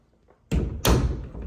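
A solid five-panel interior door in a Craftsman bungalow closes with two quick wooden thuds, a close, sharp knock followed by a heavier thump as it settles into the frame.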